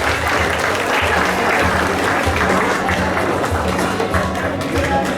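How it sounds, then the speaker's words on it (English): Steady, dense applause from a crowd, continuous clapping at an even loudness throughout with no break. "A round of applause"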